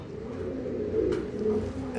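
Pigeons cooing at a pigeon farm, a steady low murmur of overlapping coos filling the background throughout.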